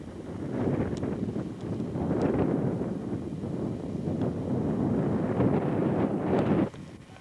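Wind near Cumberland buffets the microphone in a steady, rough, low roar with gusty swells that drops away abruptly near the end, and no voices are heard.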